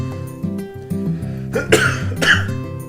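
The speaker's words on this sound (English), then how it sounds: "I am gonna cough some more, though." Two harsh, close coughs in quick succession over a backdrop of steady low-pitched music.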